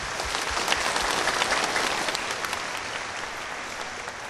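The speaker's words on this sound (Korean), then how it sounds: "여러분 오른쪽 왼쪽에 앉아 계신 시민들께 박수 한번 부탁드립니다" Dense, steady applause from the audience at a citizens' roundtable meeting in Daegu, loud and continuous, tapering slightly toward the end.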